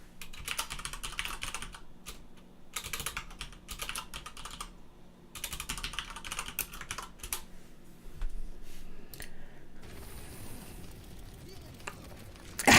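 Rapid computer keyboard typing clatters in bursts with brief pauses during a D.Va game on Numbani, mixed with game sounds and a voice talking over it.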